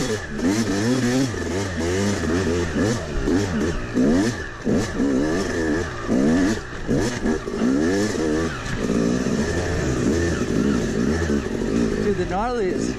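A Yamaha YZ250 two-stroke dirt bike, freshly revived after a grenaded top end, revs hard and repeatedly up close, its pitch sweeping up and down in quick bursts with voices talking over it.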